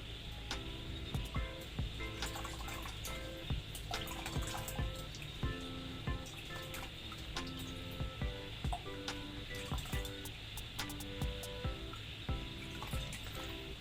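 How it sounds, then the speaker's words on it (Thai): Clean tap water runs continuously over rotten plant roots being washed, a steady close splashing and trickling with faint background music throughout. "ล้างด้วยน้ำเปล่าที่สะอาดนะครับ"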